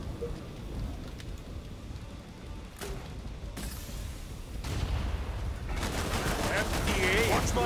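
Machine gun fire in Killing Floor 2, a rapid crackling stream of shots in dense bursts that grow louder and busier toward the end, mixed with game noise.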